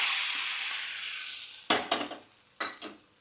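A hot tempering of mustard seeds and curry leaves hits sesame chutney, a bright sizzling hiss fading over a second or two, then a few sharp metallic clinks and scrapes of a spoon against the pan.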